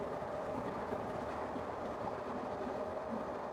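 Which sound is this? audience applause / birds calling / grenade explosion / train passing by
train passing by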